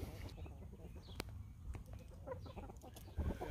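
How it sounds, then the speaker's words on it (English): Backyard chickens, about eleven birds just returned to a composting yard, cluck and murmur in soft, irregular calls close by, with a brief louder cluck near the end. "I just reintroduced about 11 birds into the yard this morning."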